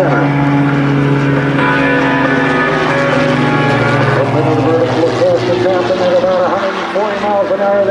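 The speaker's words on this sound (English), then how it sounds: "Then they'll bring the aircraft right back down about 20 feet off their runway and build up a lot of speed" Iron Eagles aerobatic aircraft roaring past in a fast, low pass about 20 feet above the runway at an airshow, a loud continuous propeller engine drone with shifting pitch that stays dominant throughout, with a voice over a loudspeaker in the background.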